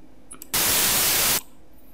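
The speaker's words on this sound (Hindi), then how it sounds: "आप सुन सकते हैं ये प्योर नॉइस है।" Synthesized white noise effect: a single loud burst of harsh, full-range hiss lasting under a second, starting and stopping abruptly against near silence.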